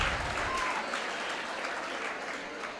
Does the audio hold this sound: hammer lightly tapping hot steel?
no